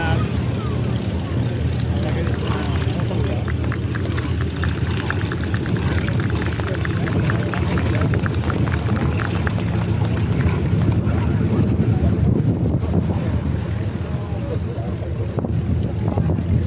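A Fairey Swordfish Mk I biplane in invasion stripes flying its display at the IWM Duxford D-Day airshow: a steady, droning piston engine with heavy wind buffeting throughout, and an announcer talking over it.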